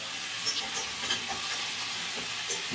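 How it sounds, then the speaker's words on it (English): Swedish meatballs fry in a hot pan with a steady, close sizzle and small popping bursts as they brown, with no talking. "just wait till the heat gets up, till they start browning, and then you're going to carefully roll them around"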